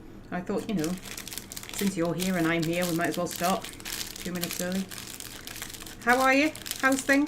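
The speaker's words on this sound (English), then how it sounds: "That is the rustling noises you can hear in the background." Crinkly plastic rustling from a Gigster's sausage roll packet being handled, intermittent crackles and crumpling close by, running under steady nearby talk.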